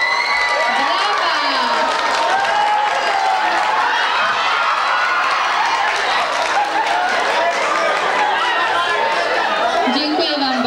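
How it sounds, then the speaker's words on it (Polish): A studio audience on a dating game show claps and cheers in a continuous, loud wash of applause, with crowd chatter and voices mixed in throughout. "Brawa!"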